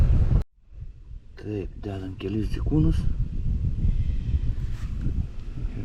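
Wind buffets the microphone on a lakeshore during bream fishing, a steady low rumble and rustle that runs beneath someone speaking and continues after his words.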